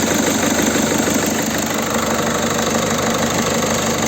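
A 2008 Peugeot 207 CC's 1.6 HDi diesel engine, warmed up, idles steadily and close by, with a constant low rumble and a light knocking rattle, no voices.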